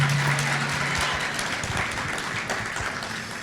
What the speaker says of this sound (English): Oh, you got a big cheering section up here.